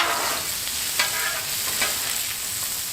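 Garlic parmesan mushrooms sizzle loudly on a Blackstone griddle while a spatula stirs them, giving a constant close frying hiss with a couple of brief scraping accents and no voices.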